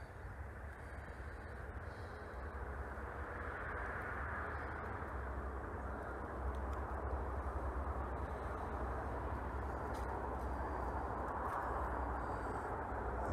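A steady, broad drone of an airplane passing high overhead, holding even and moderately loud throughout with a slight swell midway and no voices.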